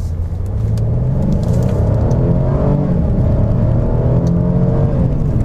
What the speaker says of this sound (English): I'm just gonna do a little acceleration,